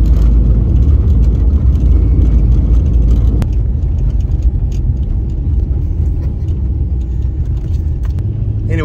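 A car driving around Anchorage, Alaska after a huge snow storm, heard from inside as a steady loud engine and road rumble with a brief rattle midway, no talking.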